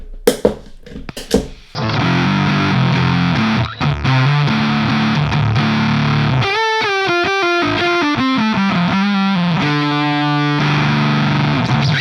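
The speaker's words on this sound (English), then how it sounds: "I'll also show you what these settings sound like with the Voodoo Octave without the octave in" Guitar run through a Joyo Voodoo Octave fuzz pedal with the octave turned off gives a loud, saturated, distorted tone: a few sharp picked hits, then sustained fuzzy chords and a run of bending, wavering single notes with no talking.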